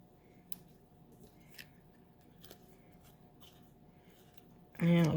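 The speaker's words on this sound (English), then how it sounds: "we'll go ahead and use our scissors. Snip that off." Scissors cut through card paper while making a fold card: a few faint, crisp snips spaced out over a quiet room, followed by a sudden louder burst at the very end.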